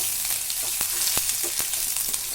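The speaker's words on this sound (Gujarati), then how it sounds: "હવે આમાં નાખશું સૌથી પહેલાં લસણ અને આદું" Garlic and ginger frying in a hot pan for a green pigeon pea curry, a bright continuous sizzle broken by sharp clicks and scrapes of stirring, close and steady.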